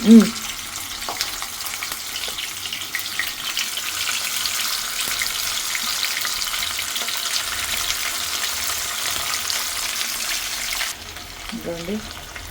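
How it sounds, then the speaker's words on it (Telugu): Potato pieces sizzle and crackle steadily in hot oil in a home kitchen, a loud continuous frying hiss with a few stirring clinks, which drops off sharply near the end as a voice speaks briefly. "ఆలూలు అన్నీ నూనెలో వేస్తున్నాను కాగే నూనె కాగింది"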